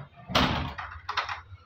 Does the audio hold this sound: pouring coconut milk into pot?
no